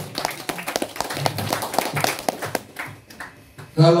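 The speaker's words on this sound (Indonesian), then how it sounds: "Tepuk tangan dulu." Audience in a surau clapping during an Islamic sermon, a short burst of fairly close, uneven hand claps that thins out toward the end, followed by a brief voice.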